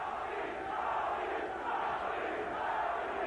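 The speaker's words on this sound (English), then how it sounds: "The crowd cheering, chanting, Tony, Tony, Tony, trying to get him fired up" Boxing crowd at a fight between Roger Mayweather and Tony Baltazar roars steadily in a dense, continuous wall of cheering and chanting, loud and unbroken through the whole stretch.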